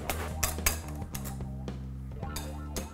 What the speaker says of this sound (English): you want to whisk it until it's reaching sort of soft peaks